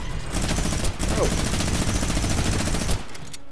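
Rapid gunfire crackles and bursts almost nonstop through a video game shootout, loud and dense, with a brief drop near the start and a cut-off near the end.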